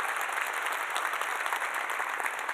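An audience claps steadily and densely at a nursing research talk, a continuous even patter of many hands, with no one speaking over it.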